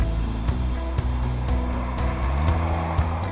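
Tyre roar from a 2014 Volkswagen Golf SV driving over a rough road surface, a continuous low drone inside the car punctuated by regular thumps roughly every half second, fairly loud.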